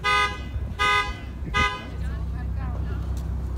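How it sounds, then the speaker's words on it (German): A car's horn honks three times in quick succession, loud and close, apparently on its own, on a road trip in San Francisco, followed by a steady engine hum and traffic noise. "Irgendwie hat unser Auto jetzt angefangen zu hupen."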